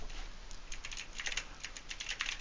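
Quick, light clicks from a computer keyboard being typed on, faint and close, in an irregular patter with no speech.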